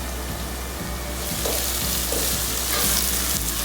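Ginger and onion fry in a pan as part of a karela chicken dish, giving off a steady, dense sizzle that swells slightly louder midway and continues without talk.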